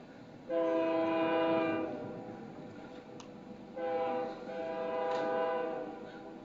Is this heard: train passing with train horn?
yes